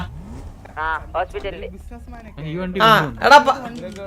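A car engine revs and whines in a video game, rising and falling in short bursts beneath excited talking and laughter from players.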